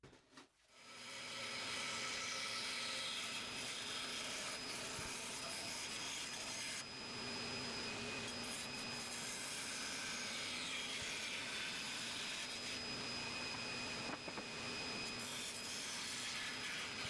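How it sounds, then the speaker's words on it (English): Spindle sander working the inside curve of a 2x6 wood board, a loud continuous whirring drone with steady abrasive rubbing that holds for well over fifteen seconds, only slight dips as the wood shifts against the drum. "With the spindle sander, I got the inside curve nice"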